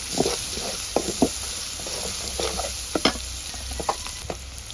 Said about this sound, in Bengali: ঝিঙের মধ্যে সুন্দর একটা কালার আনার জন্য আমি হলুদটা দিয়ে কিছুক্ষণ এই মশলাটাকে নেড়ে চেড়ে নেব।